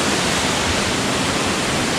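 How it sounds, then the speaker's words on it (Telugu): A waterfall seen from its upper side on a steep hillside along the Konkan route, giving a steady, dense roar of rushing water that stays broad and unbroken throughout. "ఆ కింద రోడ్ మీద నుంచి మేము వాటర్ ఫాల్ చూపించింది కదా, ఇది పైన సైడ్ చూడండి"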